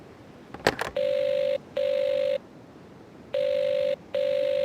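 A telephone rings in the Wii game Agatha Christie: Evil Under the Sun, preceded by a quick clatter of dialing clicks, then four even electronic ring bursts with short gaps, loud and clear over a faint hiss.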